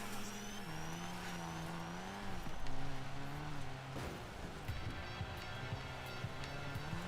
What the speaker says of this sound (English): I'm driving a clown car!